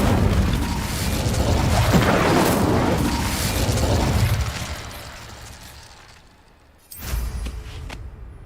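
Incendio fire spell cast in Hogwarts Legacy, a loud rushing, roaring burst of flame lasting several seconds that fades to near silence before a second sharp blast.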